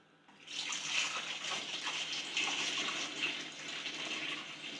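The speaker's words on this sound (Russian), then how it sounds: "Теперь просто туда наливаем воду." Water pours steadily into plastic kegs holding grape syrup for chacha, a continuous splashing hiss that runs loud and close for several seconds after a quiet start.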